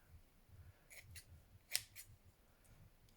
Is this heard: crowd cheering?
no